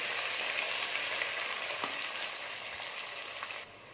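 Green chillies and onions sauté in hot oil, a steady close hiss of frying with faint stirring ticks, dropping in level just before the end.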